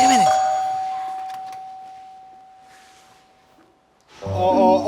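A doorbell chimes in a house, a single clear ding that rings out and slowly fades over several seconds, then a voice and movement break in at the end.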